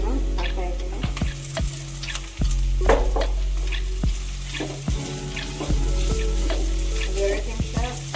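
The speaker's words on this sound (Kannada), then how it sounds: "ಈಗ ಚೆನ್ನಾಗಿ ತೊಳೆದು ಕಟ್ ಮಾಡಿ ಇಟ್ಕೊಳ್ಳುವಾಗ ತೊರಕೆ ಮೀನನ್ನು ಹಾಕ್ತಾ ಇದ್ದೀನಿ" Torake fish and onion frying in hot oil for a Mangalore-style gasi, a steady sizzle with occasional crackles and stirring knocks, close and continuous.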